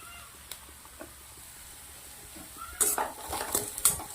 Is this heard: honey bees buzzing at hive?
no